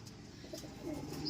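Racing pigeons coo softly at a loft after returning tired from a race, low murmuring calls close by over a steady background hum, with no talk.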